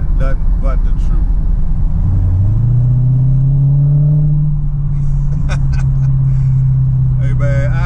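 A 2019 Dodge Challenger SRT Hellcat Widebody rumbles loudly, its supercharged V8 rising in pitch as it revs and then holding a steady drone, with someone talking over it in bursts.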